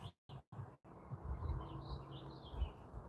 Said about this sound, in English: The birds. And the crickets and all the nature life.